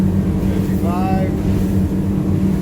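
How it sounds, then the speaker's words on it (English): Engines of a 28-foot Duckworth offshore boat running at speed with revs rising, a steady loud low drone and rushing wind, with someone talking over it. "See how I brought the RPMs up now?"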